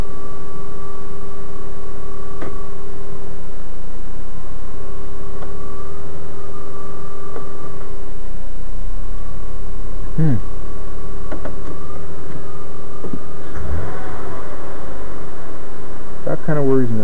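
A 2001 Ford Escape V6 idles steadily after an intake manifold gasket job, a constant low engine hum with a faint small noise and a few brief mechanical shifts near the end.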